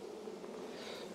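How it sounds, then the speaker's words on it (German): An opened honey bee hive gives off a dense, continuous buzz from the colony, close and steady throughout the short stretch with no talking. "Also das ist ein Bienenvolk"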